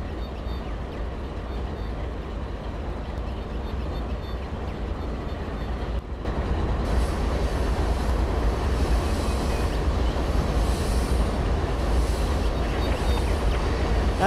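Train running across coal fields in the Trainz simulator game, a steady loud rumble of rolling rail cars that swells louder about six seconds in and stays heavy and continuous to the end.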